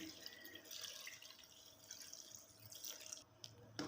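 Cold water poured over boiled macaroni in a kitchen, a soft, steady splashing and trickling of water that runs throughout, fairly quiet, with a brief clatter near the end.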